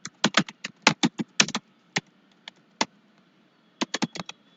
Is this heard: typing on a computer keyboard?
yes